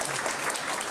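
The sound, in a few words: audience applause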